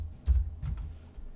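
Keys on a computer keyboard are typed in a few quick taps, close and clear, with no one talking.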